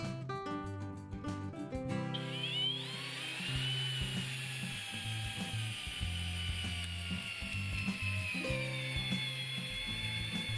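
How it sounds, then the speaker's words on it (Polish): A Bosch GSB 12V-30 cordless drill driver drives an 8x260 carpentry screw into wood, starting with rapid ratcheting clicks, then a strained whining motor grinding on steadily for about ten seconds. "Nawet wkręt ciesielski 8×260 udało się wkręcić bez większych problemów."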